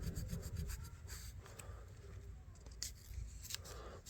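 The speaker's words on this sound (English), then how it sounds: "here we go, we just sand away" Hand sanding of a vintage knife, a quiet run of short rhythmic scratchy rubbing strokes close to the microphone, repeated steadily with no voices.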